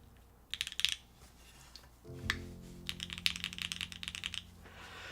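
Typing on an Overture V2 mechanical keyboard kit, a $150 build offering Hall-effect and MX options, produces quick clusters of crisp keystrokes, close and clear, while a low hum sits underneath partway through.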